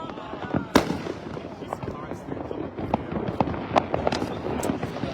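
Neighbors' New Year fireworks pop and crack in irregular bursts, one sharp close bang followed by a scattered run of lighter distant reports, with people talking underneath.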